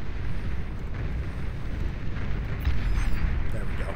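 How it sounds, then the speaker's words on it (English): Fusion reactors and a geothermal plant blowing up in a Beyond All Reason 8v8 deathmatch, giving a dense, rumbling wash of low explosive noise that swells slightly toward the end, with a commentator's voice faintly under the din. "Fusion reactors pop."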